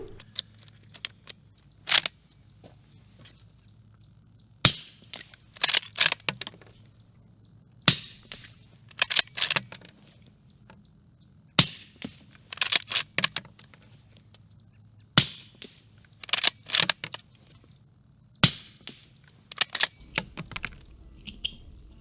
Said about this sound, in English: let's take a moment to go to the range and actually show this thing being fired like I actually wanted to the first time around